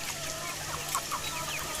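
Several village chickens cluck intermittently while feeding on leafy scraps in a Konkan farmyard, short overlapping calls at moderate volume against a steady outdoor background.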